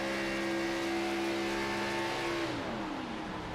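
A simulated race car engine in a racing video game drones steadily at speed, then is shut off in a turn to save fuel, the tone dropping away as the car coasts.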